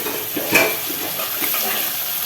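Chopped green chillies sizzling in hot oil in a pan for a Pakistani bhindi curry, stirred briefly with a utensil scrape near the start, the steady frying hiss continuing alone.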